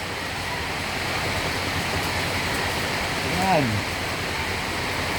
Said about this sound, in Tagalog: Daluyong ng dagat.